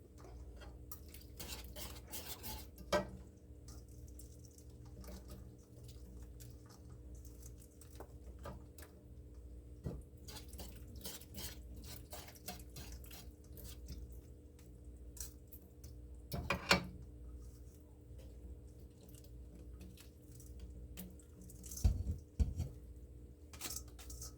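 Pasta being stirred into a thick homemade cheese sauce in a pot, with soft continuous scraping and squelching plus occasional louder clacks of the utensil against the pot, fairly quiet and close, no talking.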